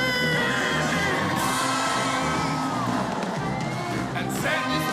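A large crowd at the Royal Edinburgh Military Tattoo screams and cheers loudly, whoops and shrill voices swelling in a sustained roar that stays dense throughout the stretch.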